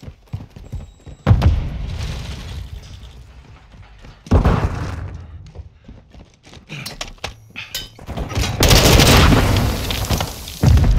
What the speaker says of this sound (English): Charge on the target and detonate it.